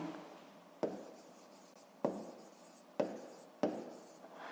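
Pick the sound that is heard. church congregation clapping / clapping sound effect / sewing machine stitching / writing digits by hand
writing digits by hand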